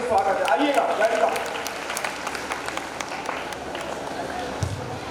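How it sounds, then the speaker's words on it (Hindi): Audience at a quiz event applauds to welcome a prize winner, a moderate patter of clapping that tapers off while a voice talks over it and a few murmurs continue. "जोरदार तालियों से स्वागत है"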